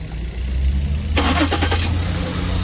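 A 2009 Lincoln car that had a crank sensor fault cranks briefly and then fires up, settling into a loud, steady idle close by.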